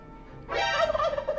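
A single turkey gobble plays as an alert sound effect during a live stream, a short loud rattling call rising abruptly out of a quiet background.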